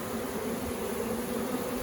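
A honey bee swarm clustered at a hive in a back yard hums as a steady, even buzz, moderately close and unbroken, with no voices.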